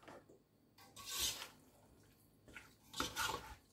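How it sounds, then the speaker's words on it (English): A mayonnaise mixture being stirred in a bowl: two or three scraping, rubbing strokes of a utensil against the bowl, close and fairly quiet, separated by short pauses. "And then we are going to stir that up"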